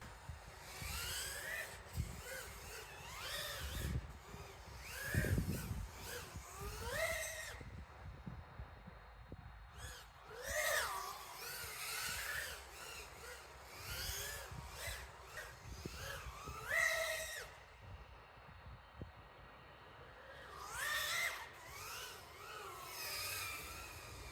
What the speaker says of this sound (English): You hear kind of a flutter, a little, or maybe almost like a screeching tires.